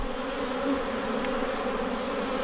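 Honeybees drone steadily from an opened hive loaded with capped honey and brood, a dense, continuous buzz of many insects close by with no voices.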